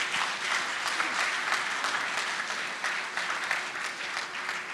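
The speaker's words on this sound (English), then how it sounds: "Can we clap for him?" An audience at a Nigerian Academy of Engineering fellowship ceremony claps for an award honoree, a sustained wash of many hands applauding evenly at moderate distance, fairly soft overall.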